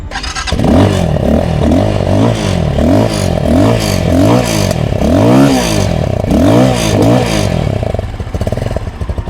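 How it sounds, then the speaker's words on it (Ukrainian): A Forte Cross 300 motorcycle engine fires up and is revved repeatedly in a rhythm of rising and falling surges, loud and close, before settling toward idle. "можна його запустити, послухати, як він працює."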